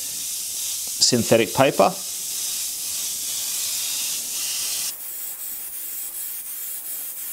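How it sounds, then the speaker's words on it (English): An Iwata Eclipse airbrush sprays a base coat of paint across a surface for a wood grain effect, giving a steady close hiss that runs for several seconds, with brief speech near the start and a slight drop in tone partway through. "I'm just going to spray a base color over the entire surface of the"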